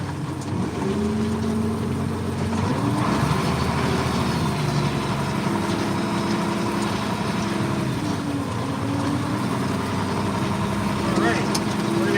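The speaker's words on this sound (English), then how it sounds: "Moving here if I can get the tractor in gear" A tractor engine runs steadily in a hay field during hay raking, a close, continuous rumble with shifting pitch as it labors and changes gear, while someone talks over it.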